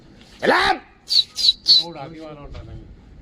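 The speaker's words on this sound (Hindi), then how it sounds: "ये निकल गए भाई कबूतर, 23 के 23 कबूतर" Racing pigeons leave a tournament loft, with a loud squawk followed by three sharp bird calls close by, and a voice speaking briefly afterward.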